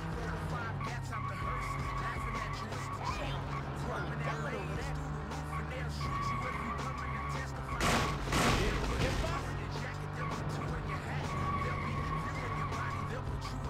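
A car in True Crime: Streets of LA drives with a steady engine drone and a long skid swelling midway, while a voice talks over the game sounds throughout.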